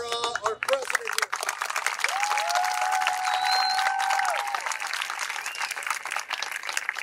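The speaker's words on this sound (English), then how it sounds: "So a round of applause to our president here" A club audience applauds the president of FC Scorpions, clapping and some cheering under voices in the room, with a brief whistle-like tone partway through.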